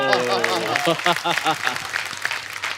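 Studio audience applause on a comedy show, with clapping running under a man's speech that carries over most of the moment.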